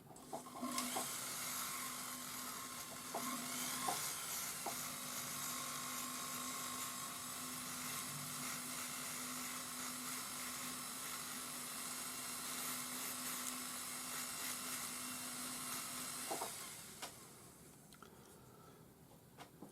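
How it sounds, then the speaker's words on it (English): Rotary tool fitted with a black abrasive rubberized disc polishing the inside of a zigzag-shaped metal bangle, a steady high-pitched whine running continuously for about sixteen seconds with brief dips, close and fairly loud, then stopping. "I'm using a black abrasive rubberized disc for the inside"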